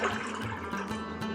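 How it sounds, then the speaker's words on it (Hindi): Water poured into a pot for Kashmiri pink tea, a steady splashing fill running close by and unbroken. "ये मैंने पानी डाल दिए"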